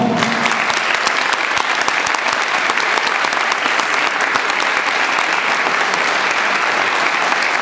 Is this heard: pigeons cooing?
no